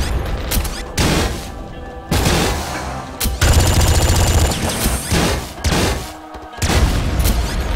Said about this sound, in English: So you saw that big stream of bullets he just put out?